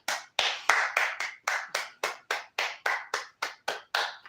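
Hands clap in an even, steady rhythm, about fourteen sharp claps over four seconds, close and fairly loud with no talking.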